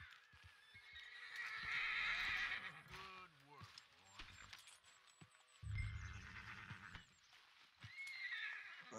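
A horse whinnies loudly in a Red Dead Redemption 2 game scene, with hoofbeats clopping and someone talking over it.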